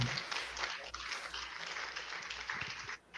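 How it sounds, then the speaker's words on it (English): A quiet round of audience applause after a guest's talk: soft, scattered clapping that fades out near the end, with a low hum beneath it. "Can we get a round of applause for him?"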